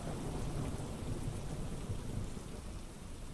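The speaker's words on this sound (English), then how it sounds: "raindrops pounding against the roof of the tent" Heavy rain pours steadily while thunder rumbles low and continuous, a dense storm wash with no voices.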